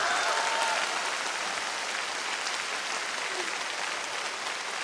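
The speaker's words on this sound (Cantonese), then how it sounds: "如果鍾意，就俾多啲掌聲鼓勵我哋啦！" A concert audience at a 2012 live show applauds in dense, sustained clapping that fills the hall at a steady level, with no talk.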